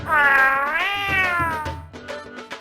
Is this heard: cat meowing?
yes